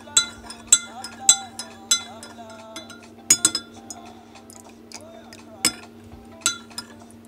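Homemade body butter stirred in a glass container, with a utensil striking the glass in repeated bright clinks and light scrapes, irregularly spaced and close by.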